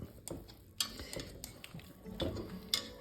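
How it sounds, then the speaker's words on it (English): A utensil mashes potato chunks in a pot of spicy sausage soup, giving faint scattered clacks and scrapes against the pot at an uneven rhythm. "mashing it up a little bit also will just help the soup to be more of a thicker, creamier soup"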